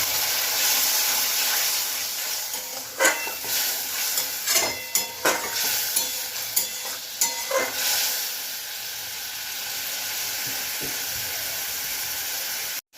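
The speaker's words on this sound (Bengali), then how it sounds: "এবার অল্প করে আমি জল দিয়ে দেবো" Water poured into sizzling tomato masala in a pan sets off a loud, steady hiss, with sharper bursts of spitting and crackling in the middle and no talking.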